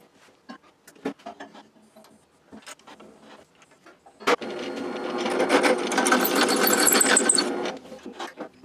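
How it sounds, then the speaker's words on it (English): A few scattered knocks and scrapes, then a power drill whirs steadily for several seconds, drilling out a hole slightly bigger, before stopping. "one thing I could do is drill out the hole in this one, just a tiny bit bigger"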